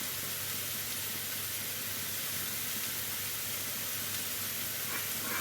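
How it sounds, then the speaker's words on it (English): A pot boiling on a stove while liver, onions, mushrooms and potatoes are cooked, giving a steady, close, hissing and bubbling wash of sound that holds evenly throughout with no voices. "it's boiling away nicely now"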